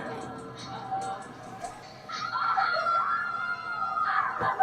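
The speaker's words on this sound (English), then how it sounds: "They're screaming and making a bunch of noise." People scream in a tense episode of The Last of Us, shrill cries bursting out in the second half over quieter voices, with brief gasps and murmured speech before them.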